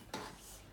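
A spoon knocks against a pan while broccoli and tomato are stirred together, one sharp clink followed by a short soft scraping, close and quiet.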